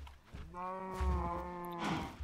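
A Minecraft cow gives one drawn-out, tonal moo lasting about a second and a half, fairly close and clear, with faint game noise before and after.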